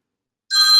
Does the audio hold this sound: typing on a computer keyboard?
no